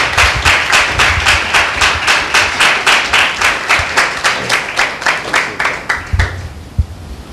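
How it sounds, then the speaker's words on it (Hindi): A church congregation at a Sunday meeting claps loudly in a fast, steady rhythm of about two dozen unified beats before it stops abruptly. "एक जोरदार ताली देते हैं परमेश्वर के नाम की महिमा के लिए।"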